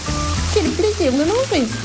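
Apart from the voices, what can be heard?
food sizzling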